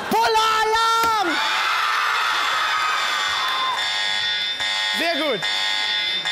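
A harsh electronic alarm buzzer pressed as a joke button blares twice, a long tone at the start and a short burst near the end, over studio crowd noise and spoken comments on a German late-night TV show.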